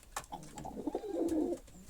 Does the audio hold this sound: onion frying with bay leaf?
no